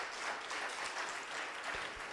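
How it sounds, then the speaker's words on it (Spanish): Congregation applause at a church service, a soft, continuous wash of many hands clapping, fairly distant and even for a couple of seconds. "Denle un fuerte aplauso al Señor"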